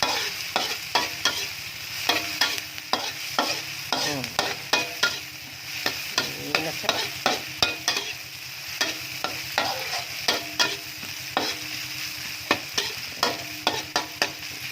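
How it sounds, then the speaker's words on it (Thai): Aromatics stir-fry in a pan for three-flavor pomfret, a steady sizzle under rapid, rhythmic spatula scrapes and knocks repeating throughout, close by with no talking. "อ่านี่ผัดให้หอมนะคะให้หอมหน่อยนึง"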